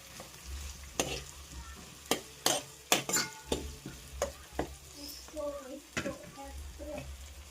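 Potato curry ingredients frying in a pan, stirred with a series of sharp, rhythmic spoon scrapes and knocks over a low sizzle, with a few soft voice-like sounds in the gaps.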